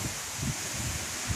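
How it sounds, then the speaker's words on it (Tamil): Wind blowing through trees at a hilltop temple makes a steady, rushing hiss and leafy rustle, with low gusty rumbles against the microphone and no voices. "இந்த இடத்துல அவ்வளோ ஜில்னஸ்ஸாக வருதுங்க காற்று"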